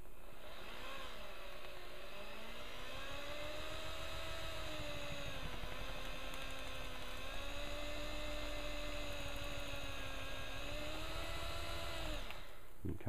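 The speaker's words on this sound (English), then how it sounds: "this is now going to get drilled out" A power drill turns a spade bit through wood while building a deck, giving a steady, close motor whine with shifting pitch for about twelve seconds, then stopping abruptly, with no talking.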